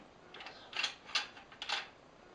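Metal parts of a Norinco M14 rifle click and slide as the operating rod is pushed down at its notch to engage the bolt, giving three quiet mechanical clicks about half a second apart.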